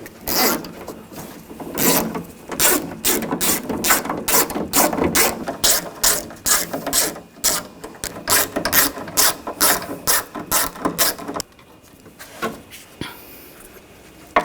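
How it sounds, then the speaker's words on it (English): Ratchet wrench fitted with a 10mm socket backs out bolts during a front window motor replacement on a 2000-2006 BMW X5, a close run of rapid clicking bursts, then a quieter pause with a few faint clicks. "Here's a 10mm socket. Take these bolts out."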